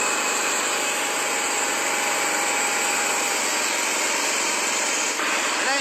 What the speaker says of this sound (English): One motor runs the saw, one runs the carriage